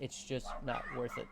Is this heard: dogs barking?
yes